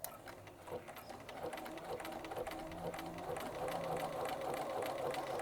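A sewing machine runs continuously while stitching back over fabric to form a buttonhole, a close, steady rapid mechanical whir with a regular ticking pulse.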